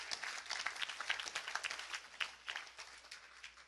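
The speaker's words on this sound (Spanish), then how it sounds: "Si le va un aplauso a Dios, déselo fuerte." A church congregation claps in a fairly quiet, uneven burst of applause lasting a few seconds, with no voices audible over the clapping.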